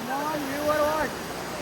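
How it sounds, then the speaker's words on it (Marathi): A hidden waterfall near an eco village gives off a steady, loud broadband rush of falling water that fills the whole moment, with a voice talking over it. "पुढं धबधबा आहे."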